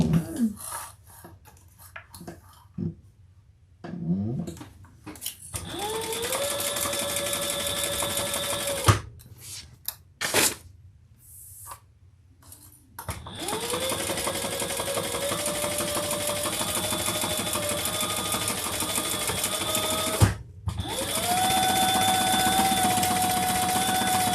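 A sewing machine stitches a handbag seam in several bursts, a close steady whirring hum that starts and stops, with quiet pauses and small clicks between runs.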